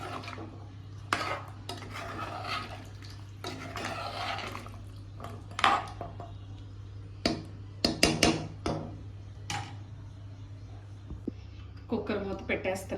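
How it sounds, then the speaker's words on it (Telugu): A metal pressure cooker lid is set on and closed in a home kitchen with a series of sharp metallic clanks and scrapes, some louder than others, over a low steady hum. "కుక్కర్ మూత పెట్టేస్తున్నా."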